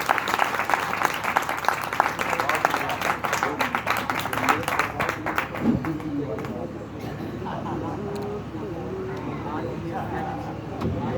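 Dense audience clapping at a Hindi kavi sammelan poetry gathering in Mainpuri, loud for the first half and then tapering off as murmured talk and background noise take over.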